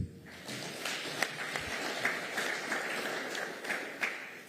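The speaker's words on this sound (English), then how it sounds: "Another round of applause for our presenters." Clapping from an audience at an engineers' workshop for the presenters, an even, sustained patter of many hands with a few louder individual claps standing out.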